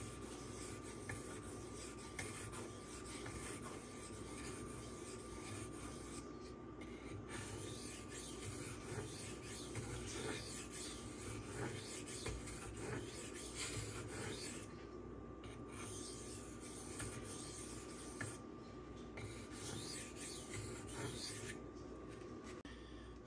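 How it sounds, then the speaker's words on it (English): Spyderco Manix knife with CPM 15V steel stroked across a silicon carbide stone, a continuous close gritty rasping that runs steadily with brief dips between passes. "yes, silicone carbide is cutting this steel with zero issue"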